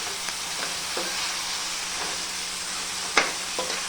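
Papdi vegetable curry with spices being stirred in a pan, a constant soft sizzle with a few spoon scrapes and clinks against the metal, one sharper knock standing out near the end.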